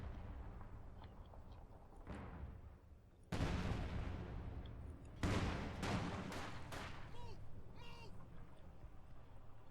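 MG42 machine gun fire in a Company of Heroes 2 match on the Moscow Outskirts map, with two sharp loud bursts amid rumbling battlefield noise and distant firing.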